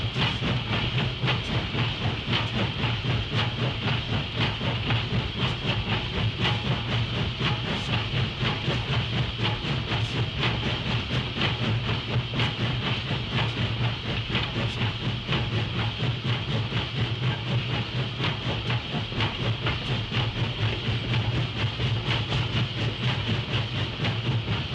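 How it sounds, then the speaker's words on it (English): A big Baldwin steam locomotive runs through a tunnel with a steady, loud, enveloping roar. Rapid rhythmic chuffing and hiss hold constant throughout without any pause. "get the heck out of the tunnel before we all became hood ornaments on the front of that big old Baldwin locomotive"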